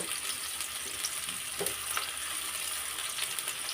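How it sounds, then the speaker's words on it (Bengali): Onions fry steadily in a hot pan while spinach greens are cooked, giving a continuous close sizzle and crackle with no one speaking. "পেঁয়াজটা একটু ভালো মতো ভাজি করে নিতে হবে"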